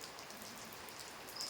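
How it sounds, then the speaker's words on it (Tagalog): Rain falls outdoors in a soft, steady patter of drops on leaves and surfaces, fairly faint and even, with no voices. "Kaya umuulan na naman, oh."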